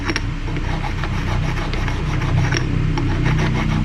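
A small metal part from an antique Dunlap/Craftsman/King-Seeley 103 drill press is rubbed by hand to smooth off burrs, giving a steady, close, loud scratchy rasping that pulses with each back-and-forth stroke.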